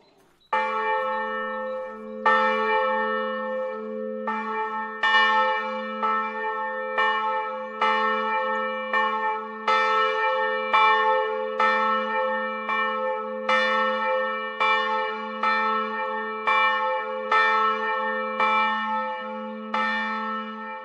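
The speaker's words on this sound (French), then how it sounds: "Chaque fois qu'on entend la cloche" A convent church bell tolls steadily and loudly, each resonant strike ringing out over the last in an even, unhurried rhythm with no voices.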